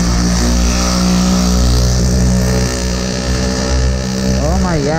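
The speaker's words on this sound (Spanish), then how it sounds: "como una moto, ¿no? Tiene ese sonidito así como agradable, ¿no? Lo que acelera y todo eso." A small gasoline engine on a motorized bicycle runs loud and close, revving and accelerating with a steady mid-pitched drone that climbs toward the end, like a motorcycle, while a person speaks over it.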